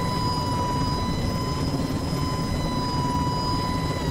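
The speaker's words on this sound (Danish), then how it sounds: "Der er en anden, der har prøvet at lande sin helikopter derovre" A helicopter in the Roblox Jurassic Tycoon game, a steady whirring engine hum with a constant tonal whine, heard alone and unchanging throughout.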